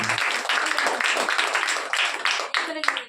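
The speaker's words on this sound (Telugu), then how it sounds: "అందరూ చప్పట్లు కొడుతూ ప్రభువుని స్తుతిద్దాం." A church congregation claps hands together in praise, a dense, steady wash of applause that fills the room throughout and thins toward the end.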